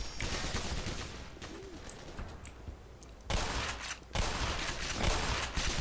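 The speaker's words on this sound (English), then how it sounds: "the shotgun isn't like the one in Half-Life 2" A shotgun fires in the Black Mesa mod Emergency 17. Two loud, sharp blasts about a second apart break over a quieter, hissy game ambience with faint chirping.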